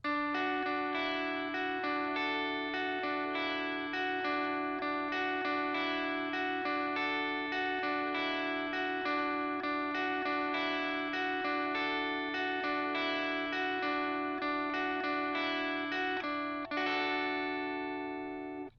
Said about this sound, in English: Then guys, we have this higher pitched counter melody